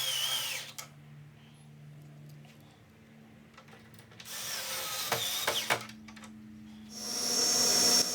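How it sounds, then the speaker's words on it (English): Electric screwdriver driving screws into wood while building an outfeed table, with a steady whirring buzz in short bursts, close and fairly quiet, broken by pauses and small handling clicks. "I used an electric screwdriver to install the 4 screws"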